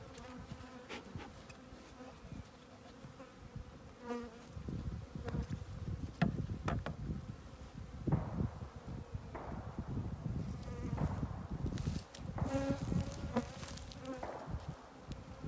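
Honeybees buzz steadily around a Dadant hive during a colony split, a dense insect drone with occasional louder passes of individual bees close by, continuous throughout with no talking.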